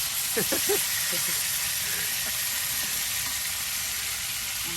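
Onions fry in a pan for bhuna with a steady hiss and sizzle that runs under a voice speaking throughout.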